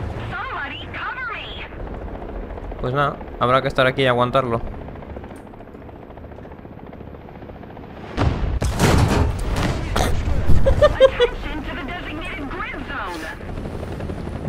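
Helicopter in the War Thunder battle game drones under Spanish talk, then a loud rumbling burst of rotor noise and blasts takes over for several seconds, mixed with continued speech.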